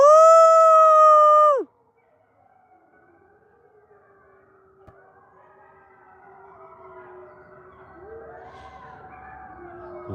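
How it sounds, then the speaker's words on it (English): A pack of wolves gives a loud territorial howl at a habitat enclosure, sustained and harmonically rich at first, then breaking off into a quieter, wavering chorus of overlapping howls that builds again toward the end. "this is what's called a territorial howl"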